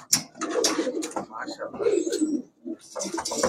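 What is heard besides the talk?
pigeons cooing in a pigeon shop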